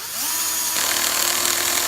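A small Bosch cordless drill, clutch set to 5, whirs steadily, its motor tone shifting partway through into a rougher, ratcheting buzz as the clutch slips.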